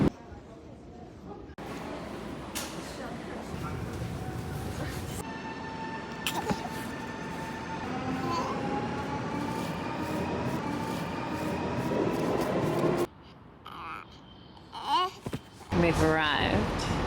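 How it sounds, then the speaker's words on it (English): Interior of a slow all-stations train in motion, a steady rumble and rail clatter with rising tonal whines as it pulls away, continuous for most of the stretch, then a brief hush and clunks near the end, with faint talk in the background. "We are on a train. It's not the express. We're just stopping at all stations."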